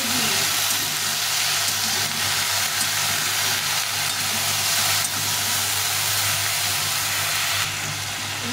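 Okra frying in a pan with a splash of water, giving a steady, close sizzle and steamy hiss that stays even and continuous throughout, with no voices.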